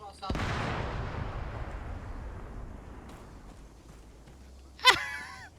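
Heavy gunfire in a modern-day military video game strikes a friendly squad: a loud booming burst that rumbles and fades over several seconds, followed by a sharp crack near the end.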